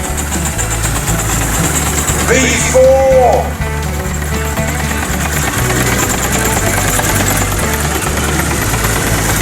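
A Fowler X5 traction engine runs at a steam and country show with a loud, steady, rhythmic low chuffing and mechanical beat. Brief whistle-like tones sound partway through, and people talk over it.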